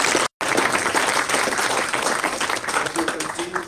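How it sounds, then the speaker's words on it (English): Dense applause from a seated audience at an Africa Phytosanitary Programme train-the-trainer workshop session in Mbombela, steady and loud with a momentary dropout near the start, sustained throughout. "let's give a big clap for those who presented at this session"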